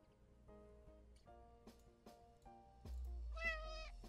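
A cat at an animal shelter gives a short meow while playing with a laser pointer, heard close over light background noise and the sounds of play.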